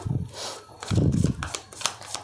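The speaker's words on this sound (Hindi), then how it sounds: "चलिए मैं शफल करती हूँ और देखते हैं।" Tarot cards are shuffled in short bursts of riffling and flicking, close and crisp, separated by brief pauses.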